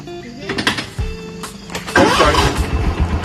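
Buggy engine starting up near the microphone, with a rise at about one second and a louder surge of engine noise after two seconds, mixed with background clatter.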